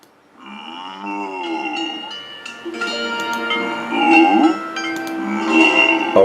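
A two-headed cow in a video game moos in long, drawn-out, wavering calls, close and fairly loud, with faint bell-like clinks at times.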